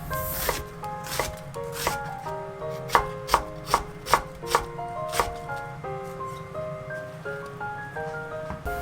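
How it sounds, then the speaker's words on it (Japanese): A knife thinly slices half an onion on a cutting board, a steady series of crisp close chops, with the sharpest cuts bunched in the middle and softer strokes toward the end, and no talking. "玉ねぎ1/2分個は薄切りにします"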